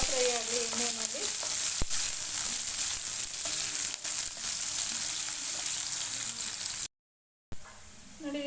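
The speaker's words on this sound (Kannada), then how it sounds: "ನೋಡಿ, ಇದೊಂದು ಸ್ವಲ್ಪ ಫ್ರೈ ಆಗಲಿ ಎಣ್ಣೆಯಲ್ಲಿ" Chopped onion and green chillies fry in hot oil with a loud, continuous sizzle and crackle, briefly stirred at the start, before a short cut to silence and a quieter sizzle resumes.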